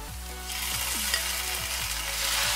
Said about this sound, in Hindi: प्याज हल्की हल्की गुलाबी सी होने लगी है, शिमला मिर्च भी हल्की पकने लगी है